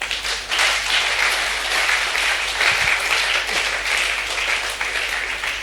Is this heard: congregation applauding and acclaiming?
yes